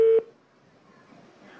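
A telephone call connecting on a radio show: a short, loud electronic tone cuts off abruptly after a moment, leaving a faint, quiet line hiss with no voices.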